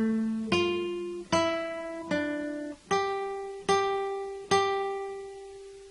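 A plucked guitar picks out the Jingle Bells verse melody on the first string, six clear notes in a slow, even rhythm, each ringing and decaying before the next.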